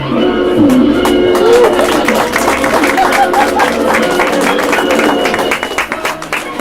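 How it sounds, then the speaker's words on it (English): An audience gives a round of applause for comedian JustP at the outdoor Bushfest 2022 festival, with loud, dense clapping and crowd cheering that fades toward the end, plus a few voices calling out. "give a huge round of applause for the mighty motherfucker known as JustP"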